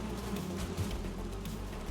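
Bees buzz in the video game Valheim, a steady, close insect drone with a low hum that continues unbroken for the whole moment, with no talking.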